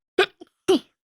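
A single sharp human sneeze, preceded by a short breathy catch and a small intake, close and clear against silence.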